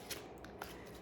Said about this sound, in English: I am going to shuffle the cards on the camera